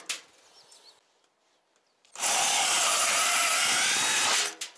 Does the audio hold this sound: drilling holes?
yes